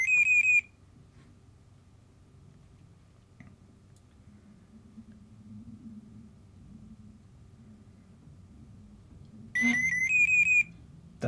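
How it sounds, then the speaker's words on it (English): Alarm tones from an EdgeTX PL18 radio transmitter: a short series of high electronic beeps, a long pause with faint background hum, then another burst of rapid beeps. "I need to work out how to turn that alarm off, unless it's because it's not connected to a model"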